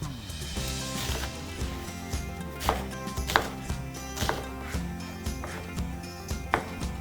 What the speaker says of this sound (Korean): 양파나 마늘, 그리고 나머지 망고나 토마토는 굵직굵직하게 썰어주면 됩니다.